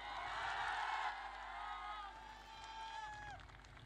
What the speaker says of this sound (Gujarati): તાળીઓના ગડગડાટથી વધાવો